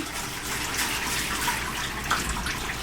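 Water running steadily while a person is rinsed in a bathtub during assisted bathing, a continuous close splashing hiss with no talking.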